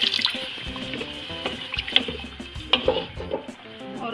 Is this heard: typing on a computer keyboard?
no